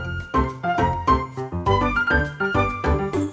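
Bouncy, up-tempo electronic music from a Pikmin game, with punchy bass notes and bright melodic stabs in a steady rhythm, played alone with no voices.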